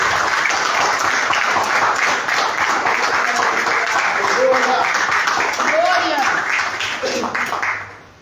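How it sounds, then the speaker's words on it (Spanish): Church congregation applauding together during a worship service, a dense steady wash of clapping with voices mixed in, sustained for several seconds before fading out at the end. "Dá um aplauso ao Senhor aí."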